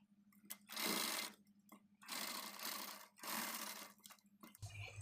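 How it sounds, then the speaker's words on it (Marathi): Sewing machine stitching a design along the back neck of a blouse, running in three long bursts separated by short pauses, close and fairly loud, with a brief soft handling sound at the end. "आपल्याला हे जे काठ काढलेले आपण त्यावरती ही डिझाईन परत स्टिच करायची आहे"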